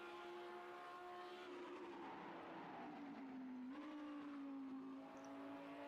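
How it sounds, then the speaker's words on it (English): Audi GT3 race car engine on a hot lap at Watkins Glen, a steady loud tone that sweeps gradually down in pitch, then shifts at a gear change and holds, continuous throughout with no talk. "We can hear the differences in engine noises of the GT3s as well. The Audi sounding a lot different from the Acura."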